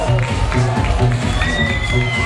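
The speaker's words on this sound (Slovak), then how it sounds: "Obrovský potlesk." A party crowd at a Playboy christening night in a motel cheers and claps loudly and continuously, with shouts rising over the din while people talk nearby.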